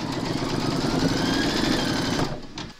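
A Brother embroidery machine stitches a Santa design: a steady, rapid mechanical whirring with a fast needle rhythm, loud and close, that winds down and stops near the end.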